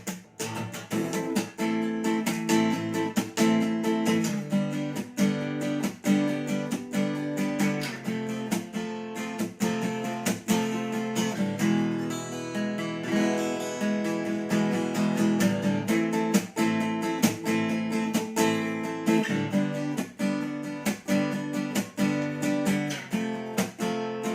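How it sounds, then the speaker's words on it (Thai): A Kama K4117 41-inch acoustic-electric guitar played unplugged rings out steadily with bright strumming, dense chords and quick rhythmic attacks, loud and close, with no voices. "ทีนี้เรามาปิดแอมแล้วก็ฟังเสียงสด ๆ กันดูนะ"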